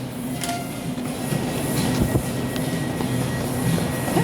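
An LRT-1 light rail train rumbles through the station, a steady loud rolling drone with faint clicks and squeals, heard up close from the platform.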